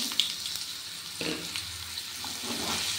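Cut potatoes tipped into a pan of hot oil seasoned with dried red chili and nigella seeds, a soft sizzle rising after a small clatter and continuing steadily with faint stirring, heard alone.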